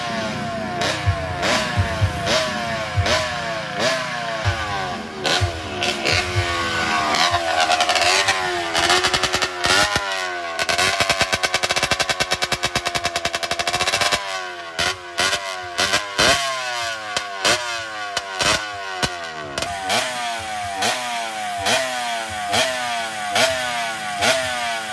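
A drag motorcycle engine revs hard again and again, sharp rising blasts and sputtering idle between, loud and close, with no talking.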